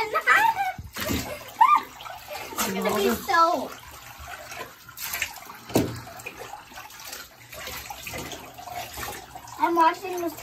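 Water sloshes and splashes in a bathtub as a dog is washed and its tail is scrubbed, with someone talking throughout over the wet, irregular splashing.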